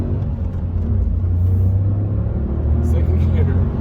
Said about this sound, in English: Then when you want to have a bit of fun, you have this lovely gear change and this cool engine.